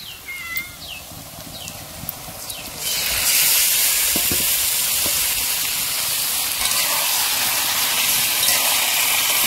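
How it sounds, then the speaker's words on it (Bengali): Marinated meat drops into a pan of fried onions for biryani, and a loud, hissing sizzle suddenly surges up and holds steady. Before it, fainter kitchen noise carries a few short high-pitched squeaks and scrapes. "পেঁয়াজ ভাজা হয়ে গেছে, এবার ম্যারিনেট করা মাংস দিয়ে দিচ্ছি।"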